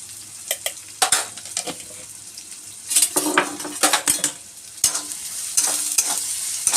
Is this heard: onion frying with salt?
yes